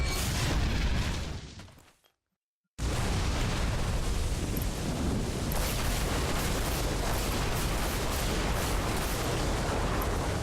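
Fire gauntlet spells in the Spellbreak video game, a dense, loud, sustained roar of blasts and crackling flame that cuts to silence briefly, then resumes and continues steadily without talk.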